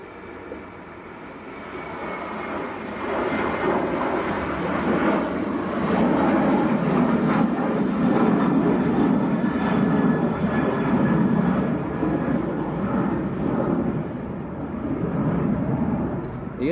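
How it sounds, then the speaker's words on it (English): Ryanair jet on its takeoff roll at Manchester Airport, bound for Barcelona, a broad steady engine roar that swells early, then holds loud and sustained at a moderate distance. "Ryanair to Barcelona on the roll."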